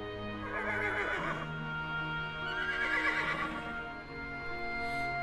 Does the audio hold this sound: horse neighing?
yes